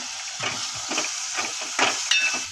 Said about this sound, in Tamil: கத்திரிக்காய் நல்லா வதங்கிட்டு ஒரு அஞ்சு நிமிஷம் நல்லா எண்ணெயிலே நம்ம சிம்மில் வச்சு